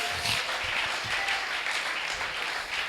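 A church congregation applauding in praise, with dense, steady clapping filling the whole stretch and some cheering voices mixed in.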